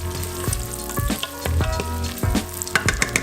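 Onion and garlic sizzle and fry in a hot pan while pork chops are being prepared, a steady crackling hiss broken by several soft knocks and stirring scrapes, loud and close with no voices.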